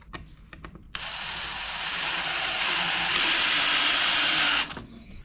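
A power drill driving a 1-inch screw into pallet wood, a few faint clicks followed by a steady high whirr lasting several seconds that stops abruptly, close and loud, no talk.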